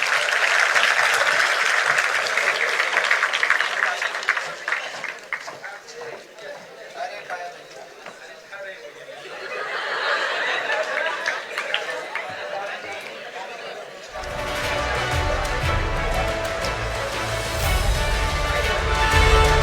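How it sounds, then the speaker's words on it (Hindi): An audience at an interview session claps steadily and loudly. A voice speaks over the applause, which swells into a heavier, fuller round of clapping near the end. "बहुत जोरदार तालियां।"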